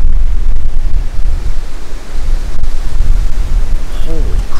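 Heavy, steady wind buffeting an outdoor microphone on a breezy day during a hunt, a loud continuous rumbling roar that briefly eases before surging again.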